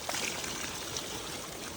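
Cold natural mountain spring water in the hills near Kullu Manali flows and splashes steadily, a continuous close-up gush with no talking.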